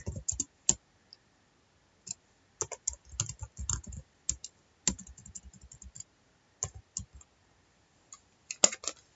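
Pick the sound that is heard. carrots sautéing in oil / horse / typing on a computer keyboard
typing on a computer keyboard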